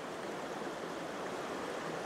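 The Cascade River flows steadily at Temperance River State Park, a broad, continuous rushing wash of water that stays even and moderately loud with no voices.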